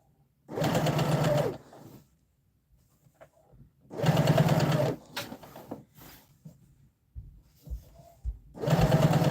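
A sewing machine stitches bias binding around a curved dress edge with the needle kept down, running in three short close whirring bursts separated by quiet pauses and faint handling noises.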